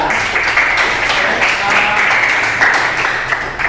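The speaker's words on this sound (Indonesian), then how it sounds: "Beri tepuk tangan untuk kelompok 2." Classroom students clap together for a presenting group, a loud, steady wash of applause lasting the whole moment without speech.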